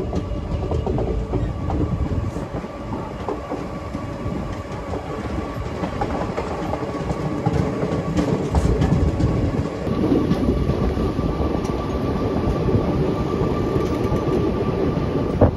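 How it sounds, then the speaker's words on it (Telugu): The Puri–Tirupati Express pulls out of Tanuku station with a continuous heavy rumble of carriages and rhythmic clickety-clack of wheels on rails, close and steady without any talk. "మన ట్రైన్కి అయితే తణుకు నుంచి సిగ్నల్ వచ్చేసింది, స్టార్ట్ అయిపోయింది."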